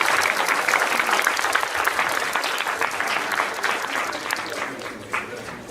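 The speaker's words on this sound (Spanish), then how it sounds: "vamos a recibirla con un fuerte aplauso" Dense, loud applause from a conference audience in Peru, filling the whole stretch with steady clapping and no talk over it.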